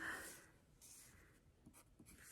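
A pencil writes a short note on paper, giving soft, close scratchy strokes that rise and fall in brief bursts, quiet with no talk.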